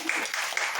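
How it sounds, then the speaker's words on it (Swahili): A church congregation bursts into dense, continuous applause at close range, the clapping bright and evenly sustained for under a second without distinct separate claps. "Pigia Yesu makofi matatu."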